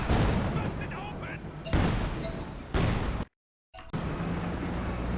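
Artillery barrage in Company of Heroes 2: heavy booming impacts in long rumbling bursts, with several broad blasts separated by a brief dead silence.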